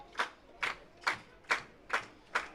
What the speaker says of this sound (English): Lively crowd here tonight at the ballpark in Springwater.